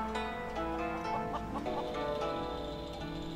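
Live chickens in the back of a car in the video game Sleeping Dogs cluck and squawk repeatedly, close and fairly loud over a low background hum.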